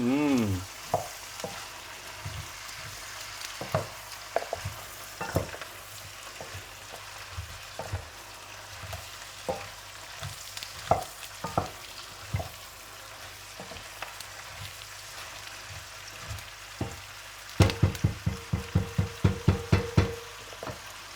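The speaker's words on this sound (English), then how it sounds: "I'm going to continue heating up my red cabbage with butter" Red cabbage and apples sizzle steadily in butter in a pan, close and alone, with repeated stirring scrapes throughout and a quick burst of rapid stirring strokes near the end.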